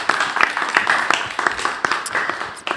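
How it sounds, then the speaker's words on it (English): Audience applause as a high school student team, Group 2, walks on stage at a school presentation; dense steady clapping from a crowd, fairly close, continuing without talk. "give them a round of applause as they come on stage"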